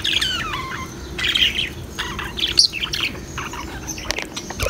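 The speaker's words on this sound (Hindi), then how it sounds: "अभी आपको मैं तोते दिखा देता हूँ। पहले ये सामने तोते देख लो आप सारे" Parrots chirp and squawk from their nest during rainy weather, a busy run of bright, sharp calls repeating at close range over steady background hiss, with no talk.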